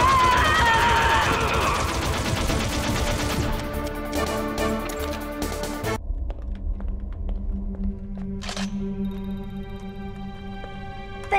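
Gunfire in a Metal Gear Solid cutscene: rapid bursts of shots ring out over loud, dense background music, then scattered single sharp reports sound against quieter sustained tones.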